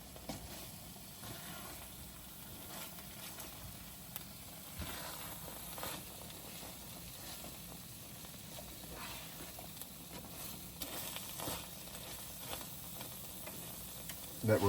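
A stir-fry of spruce grouse, beef and rice with plum sauce sizzles and frizzles steadily in a pan, mixed with faint scraping and stirring clatter throughout at a moderate level, with no talk.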